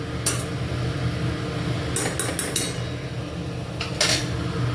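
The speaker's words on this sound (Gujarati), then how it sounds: "અને સાથે સાથે આપણે આ મસાલો છે એ પણ નાખી દઈશું અને હલાવી દઈશું" Masala goes into a pan of stuffed brinjal curry and gets stirred, with a few sharp metal clinks of a spoon against the pan over a steady low kitchen background and no voices.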